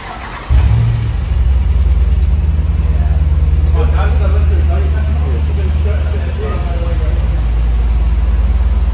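A big Jeep SRT engine starts, then settles into a loud, deep, steady rumble nearby, with people talking over it.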